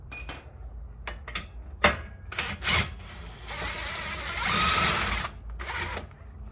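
An impact wrench hammering off a large bolt on a Porsche Cayenne Turbo 958, several short loud bursts of rattling torque, then a longer sustained run, with garage clatter between.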